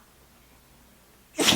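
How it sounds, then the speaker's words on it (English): A beagle gives one short, sharp sneeze close by right at the end, after a near-silent indoor stretch. "Why do you come in here and sneeze?"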